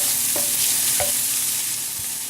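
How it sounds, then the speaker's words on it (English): A cup of diced zucchini with onion fries in a pan while a spoon stirs it, giving a steady sizzle with a couple of sharp scrapes and knocks close up and no talking. "we're going to add the diced zucchini, 1 cup. We're going to stir that around."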